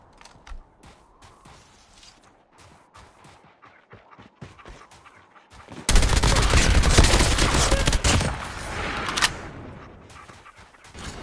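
Call of Duty battle royale gameplay starts with sparse clicks and knocks, then erupts into loud continuous gunfire, with rapid bursts and dogs barking from an attacking canine unit.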